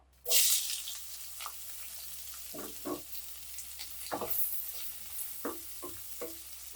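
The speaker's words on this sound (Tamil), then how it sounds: "நல்லா கஞ்சிச்சு கட் பண்ணியிருக்க வெங்காயத்தை ஆட் பண்ணிப்போம்" Chopped onions sauté in oil in a pan over medium flame, a soft continuous sizzle with intermittent scraping stir strokes, fairly quiet and without talk.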